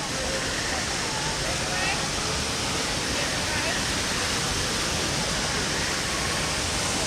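A waterfall at Animal Kingdom in Disney World pours down in a dense, unbroken roar that stays loud and even throughout and fills the whole scene.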